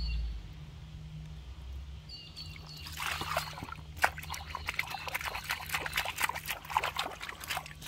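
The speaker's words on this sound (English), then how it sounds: "We'll bait pump the water out of there" A bait pump sucks water up off bedrock beneath gravel while gold prospecting, giving a close, steady run of gurgling, slurping suction noise over a low hum.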